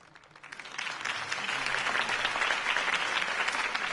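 Video game crowd applause swells up from quiet within the first second and settles into sustained, even clapping, with no voices over it.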